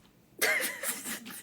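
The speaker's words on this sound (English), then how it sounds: "I can't stop coughing." One sharp, close cough bursts out after a short quiet moment, followed by a few rougher, fading throat sounds in an indoor podcast setting.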